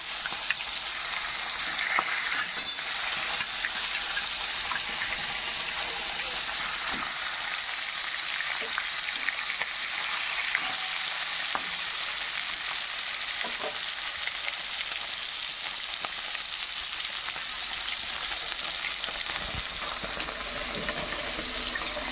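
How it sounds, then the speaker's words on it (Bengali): Tilapia fish pieces, heads included, fry in hot oil with a steady, continuous sizzle that runs for the whole stretch, broken now and then by faint stirring clinks and scrapes. "তেলাপিয়া মাছ দিয়ে দেবো।"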